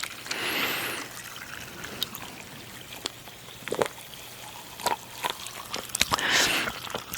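Seltzer fizzes and bubbles over the rim of an unshaken can, heard close up as crackling, trickling effervescence in scattered bursts with short pops and quieter gaps.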